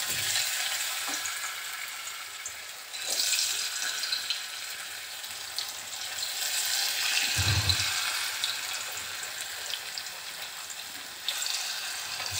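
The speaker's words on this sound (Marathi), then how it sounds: "आपण चिप्स टाकणार आहोत तळण्यासाठी" Raw potato chips fry in hot oil with a loud, continuous bright sizzle that swells and eases in waves, broken by a few brief low thumps from handling.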